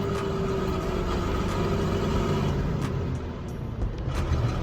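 A malfunctioning used box truck engine rumbles steadily at close range with a low throbbing drone, swelling slightly and dipping briefly near the end as the throttle is worked, with no voices.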